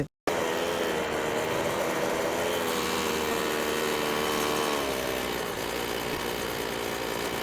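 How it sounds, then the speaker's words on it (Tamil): A steady, buzzing two-stroke engine on a homemade airboat runs continuously at close range, droning with a constant propeller whir. "நம்ம ப்ரப்பலர் எந்த அளவுக்கு ஸ்பீடாக சுற்றுது அப்படிங்கிறத பாருங்கள்"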